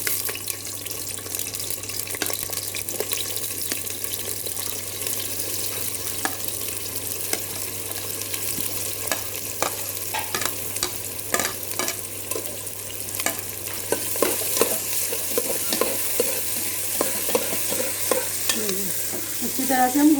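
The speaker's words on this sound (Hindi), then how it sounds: "उसके बाद मैं यहाँ पर देखिए प्याज डाल रही हूँ। प्याज हम अपना गोल्डन ब्राउन करेंगे," Onions fry in hot oil in a pan while being stirred, giving a steady, close sizzle with scraping stir sounds that runs continuously without any talking.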